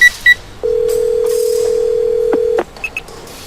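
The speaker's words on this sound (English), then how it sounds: "I pull out my phone and dial the first name that comes to mind." Two short keypad beeps from a phone, then a steady dial tone held for about two seconds, cut off as more dialing tones follow, clear and close.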